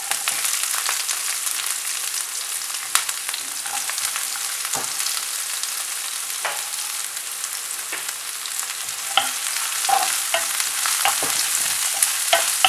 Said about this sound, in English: I'm going to fry the onions till it's nice and brown